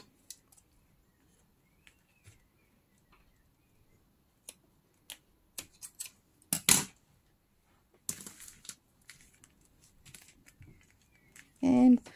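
Scissors snip cord while making a travel notebook. Several short, sharp clicks and cuts are scattered across a quiet room, with a louder cluster midway and a brief vocal sound at the end.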